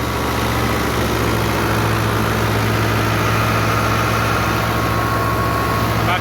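Close, steady rumble of a 2017 New Holland Fiat 640 75 hp tractor engine held at 1500 RPM, a constant low diesel idle with vibration and no break in level throughout.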